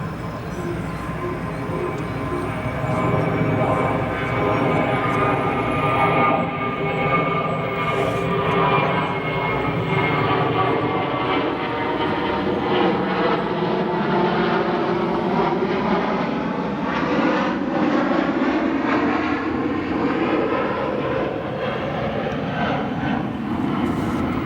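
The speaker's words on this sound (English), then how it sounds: "we have another 320 departing here on 28 right headed to LaGuardia" An Airbus A320 jet departs runway 28 Right at O'Hare, a loud, steady roar that sweeps as the plane climbs away, with a long engine drone and no talk.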